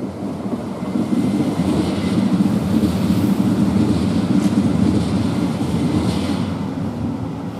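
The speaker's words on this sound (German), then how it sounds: "das war jetzt der Regionalzug Richtung Brenner" A regional Talent train heading toward the Brenner rolls past on the northern ramp, a steady, loud rumble of wheels and motors that swells and holds, then eases slightly as it moves away.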